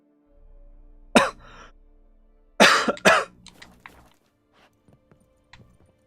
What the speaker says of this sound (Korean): 마른 기침 나